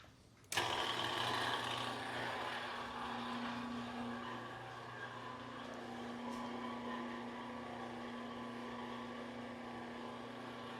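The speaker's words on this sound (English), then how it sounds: "the ram is pushing the entire press down" A press ram drives down to compress golf club pins at an ADEX club shop, starting abruptly and then holding a loud, steady mechanical drone with a low hum and whine throughout, no voices.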